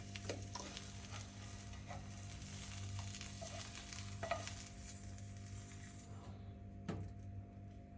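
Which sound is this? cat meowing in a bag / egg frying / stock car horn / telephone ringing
egg frying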